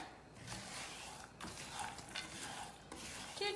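Almonds coated in cinnamon and erythritol are stirred in a pan, making steady close scraping and rustling strokes with a soft sizzle underneath.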